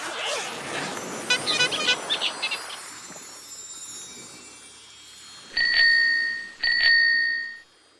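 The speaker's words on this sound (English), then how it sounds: "It's a bike bell, of course." Bicycle bell rung close by, a quick burst of rapid dings followed by two longer, ringing strikes that fade out, with a faint rustle in between.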